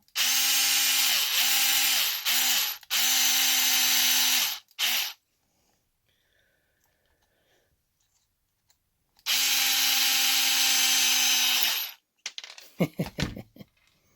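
Electric screwdriver driving screws into a Traxxas MAXX RC truck front differential, two loud close whirring bursts separated by silence, followed by small metallic clicks and taps of parts being handled.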